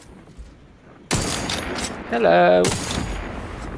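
Gunfire from The Outer Worlds 2 game, with a sharp crack followed by a short burst of shots and a brief tonal sound, while a voice calls out.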